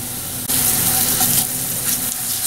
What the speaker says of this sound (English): Let's add some of that compound butter. Okay? We'll let that melt down and coat these mushrooms.